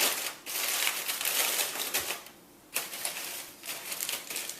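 Aluminium foil being crushed into a small ball by hand, close and crinkly, two bursts of crackling separated by a brief quieter pause.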